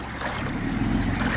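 Heavy rain and floodwater on a street in Ajman, Dubai, a dense continuous rush and wash of water with low rumbling, loud and steady, no voices.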